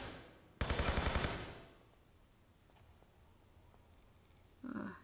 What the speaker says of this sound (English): since I have a lot of shots in this gun, let's use the MP5